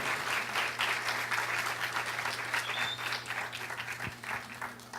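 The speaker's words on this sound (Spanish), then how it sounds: "Dale un aplauso al Rey de Reyes por su vida, por favor, pastor" A church congregation applauds steadily for several seconds at a sermon by pastor César García, a dense, continuous wash of clapping with a low steady hum beneath it.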